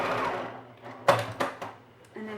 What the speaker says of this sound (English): we're going to do is sew down that edge using a 1/2 inch seam allowance